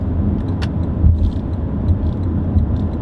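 The turn signal of a Lexus LC500 ticks in a steady, soft rhythm inside the cabin, set against a low engine and road rumble.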